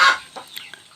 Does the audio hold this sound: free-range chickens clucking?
yes